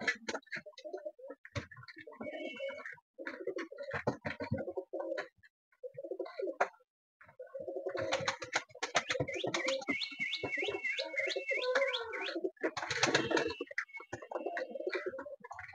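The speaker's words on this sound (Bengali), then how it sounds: "এই যে এটা বেজাত কবুতর" A domestic mixed-breed pigeon kept at home coos close up in repeated low, throaty phrases with short pauses between them, mixed with light ticking clicks and a few sharper chirps from other birds.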